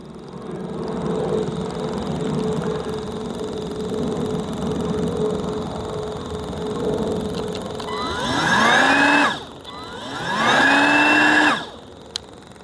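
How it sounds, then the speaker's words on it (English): Chainsaw being started after its fuel pump is primed, first a low mechanical rumble, then two loud rising and falling engine revs near the end. "so we're gonna see how long it takes me to get it pumped up and started"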